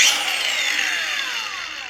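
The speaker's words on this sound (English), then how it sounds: "So what we have right here, this is a grinder." A battery-powered grinder smoothing the frets of a cheap guitar, a steady high whining grind with falling pitch sweeps, close and loud throughout with no talk.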